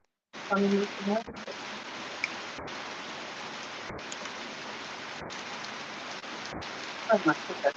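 Heavy rain pours down in a dense, continuous hiss that runs throughout, with voices talking briefly over it at the start and near the end.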